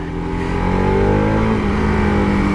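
A 2019 Bajaj Pulsar RS200 motorcycle engine revs up loudly and close by, its pitch climbing as it accelerates over a couple of seconds.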